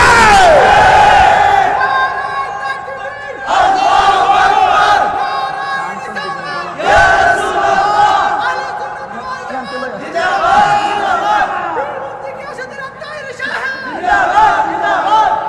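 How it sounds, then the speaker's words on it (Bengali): A large crowd at a religious sermon gathering in Comilla shouts slogans in unison with raised hands, loud, roaring bursts repeating every few seconds, each swelling and then dropping back under a steady crowd din. "এই দুই হাত তুলে স্লোগান দিয়ে বলা আছে"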